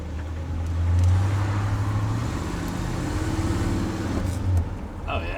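A heavy 1968 Ford LTD hardtop with a torquey engine rumbles steadily while driving, the low drone swelling briefly as it pulls, with road noise around it.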